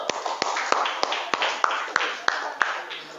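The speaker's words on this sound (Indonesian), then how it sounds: "Tepuk tangan dulu." Hands clap in a classroom as sharp, evenly spaced claps, about three per second, over a low background of room noise.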